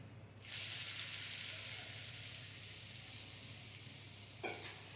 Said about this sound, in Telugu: తాలింపు అండి.